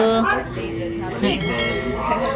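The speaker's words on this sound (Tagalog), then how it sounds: "Maingay yung aso ni Seth." A dog barks and yips close by during a home birthday gathering, a few short, excited barks with a whimpering edge, mixed with people talking nearby.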